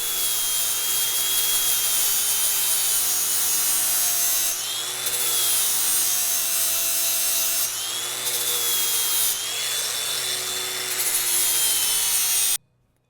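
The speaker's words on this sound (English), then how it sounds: "I just got a grinder, and we're just gonna grind off those" An angle grinder grinds off the rivets on a 2004 Honda CR250 motorcycle chain, producing a loud, continuous high-pitched whine that dips briefly under load several times before cutting off abruptly, with no voices.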